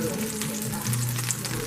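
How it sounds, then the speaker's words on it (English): Food frying in a pan with wine, a steady close sizzle and crackle running throughout with faint background voice. "Ooh, look at that sizzling."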